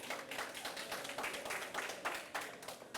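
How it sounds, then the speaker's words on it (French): A school quiz audience claps for a contestant, a faint, dense patter of many hands continuing steadily for a few seconds with no voices over it. "Est-ce qu'on peut applaudir pour l'encourager, s'il vous plaît?"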